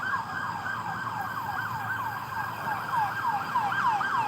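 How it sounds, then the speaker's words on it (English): Emergency vehicle sirens wail on a side street, a steady repeating up-and-down yelp that sounds moderately distant and continuous, with faint traffic rumble underneath. "Here we go sirens. again."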